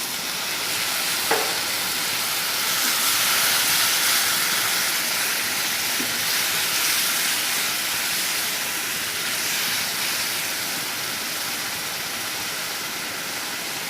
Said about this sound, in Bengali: একটু পানি অ্যাড করে নেব, লেগে যাবে।